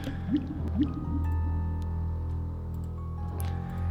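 Liquid drips in the Space Quest 6 video game, a few soft wet plops falling near the start over a steady low electronic hum and drone.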